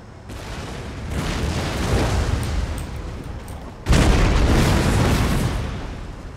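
Cannon volleys from artillery in the battle game Empire Total War, deep rumbling booms in two long swells, the second starting abruptly and louder, with no talking.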